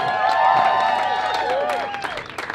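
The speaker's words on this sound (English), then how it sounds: "give him a round of applause, please" A rally audience applauds and cheers for a candidate being welcomed to the stage, dense clapping with scattered whoops, fairly close, and a voice speaking through it before the noise thins out.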